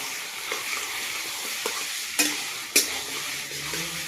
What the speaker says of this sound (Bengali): মাংসটা আমি পেঁয়াজের সাথেই ভাজবো